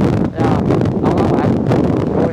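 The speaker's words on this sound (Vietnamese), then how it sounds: "Gió thổi thổi thổi bay thấp luôn." Strong wind blowing at a beach at Phan Rí Cửa, Bình Thuận, buffeting the microphone in loud, continuous gusts with a brief dip near the start.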